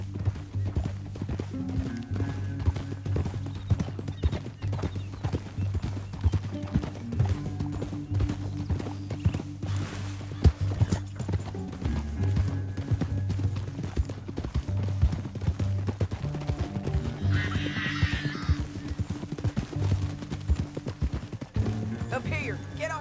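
Steady horse hooves clip-clopping at a walking pace beneath a low musical drone in Red Dead Redemption 2, with a brief whinny partway through.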